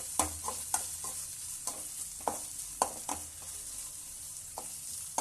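Crushed ginger-garlic paste frying with onion in a village-style pan, a steady close sizzle broken by sharp clacks of a spoon stirring about every half second, no voices.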